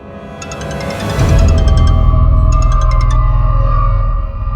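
A phone ringtone plays an incoming-call melody in two bright bursts of rapid beeping tones over a loud, low dramatic music drone.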